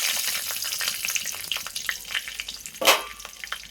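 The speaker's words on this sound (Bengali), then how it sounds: "এবার আমি তেলেতে দিয়ে দিয়েছি কালা জিরে। কালা জিরেটার সাথে দিয়ে দেবো কাঁচা লঙ্কা কুচি।" Nigella seeds and chopped green chili fry in hot oil for a prawn poppy-seed dish, a busy crackling sizzle with scattered pops and one sharp louder burst near the end, close up and free of talk.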